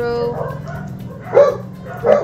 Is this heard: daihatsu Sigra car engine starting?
no